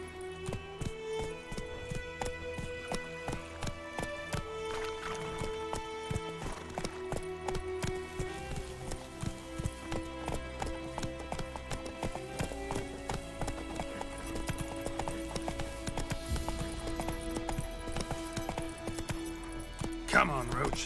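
Geralt's horse Roach gallops in The Witcher 3 with steady, clear hoofbeats under orchestral game music and occasional voices.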